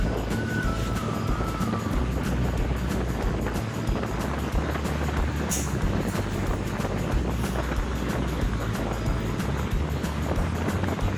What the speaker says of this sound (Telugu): గాలి అయితే మాత్రం విపరీతంగా వేస్తుంది